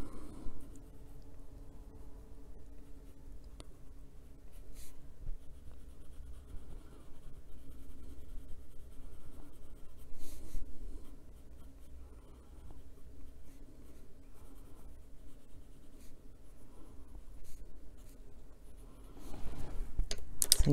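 Inktense pencil shading on paper while darkening a corner of a hedgehog drawing, a soft continuous scratchy scribble that runs steadily throughout at close range, with no talking.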